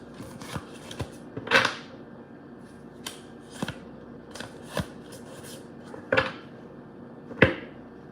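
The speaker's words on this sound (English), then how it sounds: "I'm going to stop shuffling this deck" Tarot cards are shuffled in a handful of crisp, papery riffles and snaps, spaced irregularly and fairly close, with quiet handling between bursts.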